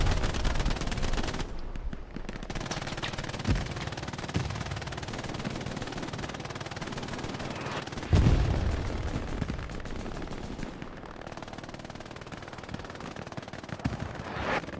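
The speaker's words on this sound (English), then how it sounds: "Oh, no, Tamla's gonna shoot him." Dense, continuous gunfire and distant explosions from a Hell Let Loose competitive semifinal match roll on steadily as a game battle, with a heavier blast rumbling in partway through and no speech heard.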